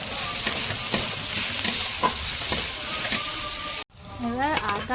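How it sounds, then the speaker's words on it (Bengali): Onions fry in a pan with salt, giving a steady close sizzle with periodic clinks of stirring, then a brief cut and a louder scraping swirl near the end. "পেঁয়াজটাকে ভেজে নিচ্ছে"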